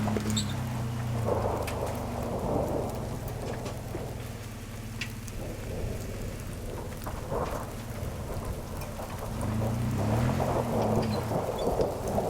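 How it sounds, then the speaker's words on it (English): Rain pours during a thunderstorm on a Colorado 4x4 overland trail, a loud continuous wash of drops with low rumbling thunder rolling underneath, with no voices. "So the rain finally came."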